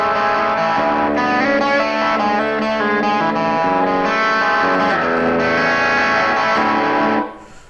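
An electric guitar plays through a humbucker pickup switched to parallel mode for a thinner tone, with distortion and effects, in dense sustained chords that ring loudly and continuously before fading at the end.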